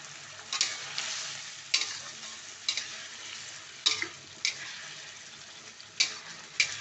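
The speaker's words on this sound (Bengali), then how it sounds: "মশলা একটু ভালো করে কষাতে হবে যাতে কাঁচা গন্ধ না থাকে।" Spice masala with smashed tomatoes fries in a pan for a cabbage curry, a constant sizzle broken by rhythmic spatula scrapes about once a second, close up with no talking.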